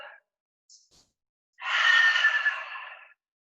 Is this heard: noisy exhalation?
yes